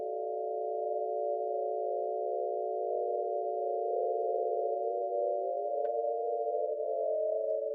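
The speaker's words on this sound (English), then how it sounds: "So you have 8 different tones here, and each one can be a different interval." Several steady synthesized tones sustained together in Ableton Live, layered at different intervals and droning evenly as an ambient chord, with one brief click partway through and no talking.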